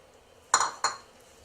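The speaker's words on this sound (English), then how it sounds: "I've just melted 4 tablespoons of butter in this skillet, and I'm going to add 2 cups of finely chopped" Two quick metallic clinks against a skillet of melted butter as chopped walnuts go in, close and sharp, with no talk.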